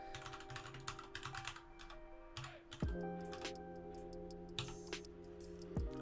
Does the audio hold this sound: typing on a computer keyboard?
yes